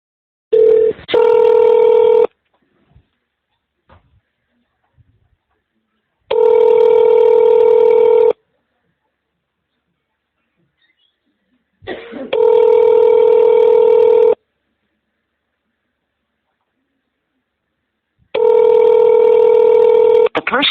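Telephone touch-tone dialing and ringback tones sound in four loud, evenly spaced bursts of about two seconds each, separated by near silence, with a brief faint voice between bursts.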